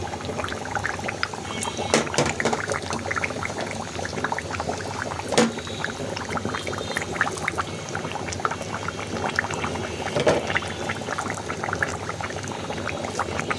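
Ground mustard paste goes into a pan of long-heated oil for a Bangladeshi olive pickle, giving a steady, close bubbling and sizzling hiss that stays even throughout, with no talking.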